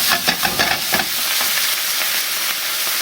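Vegetable stock poured into a hot pan hisses and sizzles loudly, with a few stirring scrapes early on before settling into a steady bubbling fry.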